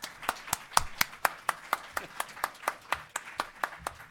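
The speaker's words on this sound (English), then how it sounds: "Let's give our panel a round of applause" A conference audience claps for a nonprofit panel, steady sharp handclaps at a brisk, even rhythm, close and fairly loud, with little else beneath them.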